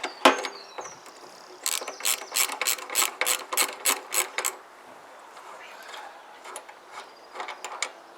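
Ratchet clicking in a rapid burst of about ten strokes while undoing a bolt at the back of a Kawasaki GPZ500S motorcycle fuel tank, close up, with scattered tool clatter and handling noises before and after.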